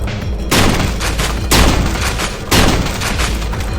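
Gunfire in the Perilous Warp video game comes as three sharp blasts about a second apart, each followed by a rumbling tail, loud and close, with no talk.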